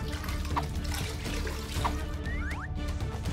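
Water trickles and drips softly with a few small splashes against a low background hum.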